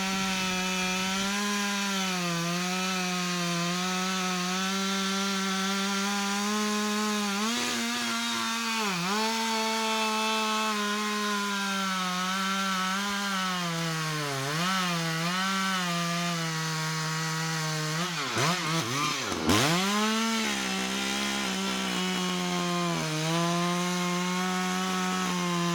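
Chainsaw with a 90cm blade cutting through thick wood, a loud continuous buzzing whine whose pitch sags and recovers as the chain bites, with deep dips near the end.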